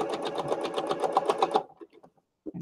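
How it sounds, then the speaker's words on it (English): An old sewing machine stitches a seam on lace, a rapid even run of needle clatter for about a second and a half, close, then stopping with a few soft clicks and a short burst at the end. "And you're just going to follow your seam and sew down all the way around."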